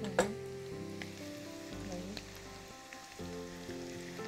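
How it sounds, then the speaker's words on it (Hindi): Garlic frying in a pan, a soft low sizzle under a sustained musical tone with a sharp clatter at the start and faint stirring through the rest, quiet overall and no talking. "थोड़ा सा लहसुन डालकर इसको भी ब्राउन करेंगे"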